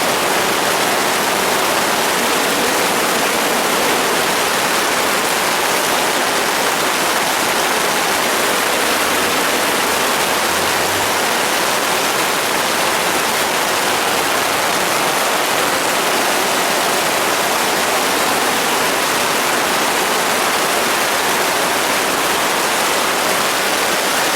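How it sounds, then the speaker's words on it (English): Steady, dense downpour drums on the fabric of a Coleman 4-person Sundome tent, a continuous broadband hiss with no pauses, close and loud throughout. "It's about as big as a downpour as this tent can endure, I suppose."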